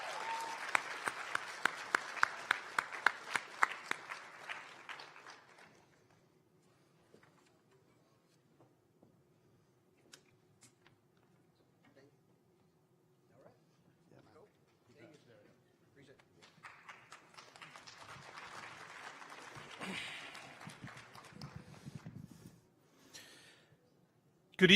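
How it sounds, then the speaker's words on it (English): Audience applause at a university student affairs leadership awards ceremony, a loud burst of clapping that fades into a quiet stretch with faint speech, then a second round of applause swells up. "So let's see if I get better applause than Tom."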